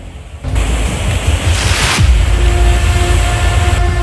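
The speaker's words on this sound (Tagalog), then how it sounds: "napakalakas ng mga alon dahil ito po ay dulot ng bagyo" Strong sea waves whipped up by a typhoon, a loud continuous roar of surf and rushing water with a brief louder crash, no voices.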